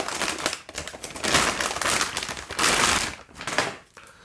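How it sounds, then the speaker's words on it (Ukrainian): Crinkly plastic rustles and crackles in several bursts as the package of an ASUS GeForce RTX 4070 graphics card is handled and torn open close up, with brief pauses between. "Відкриваємо цей пакет."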